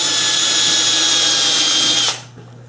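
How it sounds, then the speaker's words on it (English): A center drill spinning in a lathe gives a loud, steady high-pitched whine close by for about two seconds, then cuts off abruptly and leaves a low hum. "going to use the center drill"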